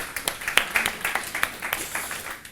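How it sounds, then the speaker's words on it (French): Brief applause from a conference audience at an oral implantology event in France, a loose patter of separate claps from a modest crowd, fairly close and without talk. "Christian Candel, sous vos applaudissements."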